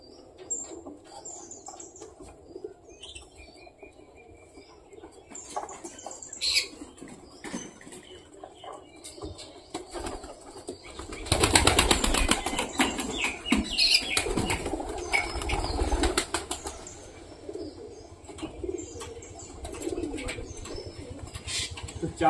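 Domestic pigeons at feeding time: faint fluttering and soft calls build into a loud, close burst of wing flapping in the middle, which then settles back to quieter rustling.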